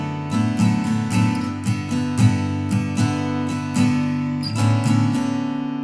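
Rhythmic strumming of the verse chords of a song on guitar, steady repeated strokes with chord changes throughout, close and clear with no voices.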